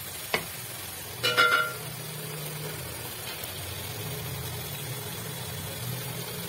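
Fenugreek leaves (methi) frying in a pan give a steady, quiet sizzle, with a couple of short stirring clatters near the start.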